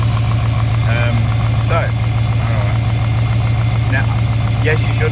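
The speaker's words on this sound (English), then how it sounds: "yes, you shouldn't rev a cold engine" A cold V8 car engine idles with a steady low rumble, its throttle blipped through a linkage cable during an engine build check, running loud and close under brief talk.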